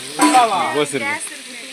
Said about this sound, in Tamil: ஊற்று, எண்ணெய் கருகுது. இது வெங்காயம் கீழே ஊற்று.